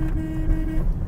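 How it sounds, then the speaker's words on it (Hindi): A Tata car's horn, a light thin honk held steadily for about a second, loud and close, over the low hum of the car's engine. "हॉर्न भी यार"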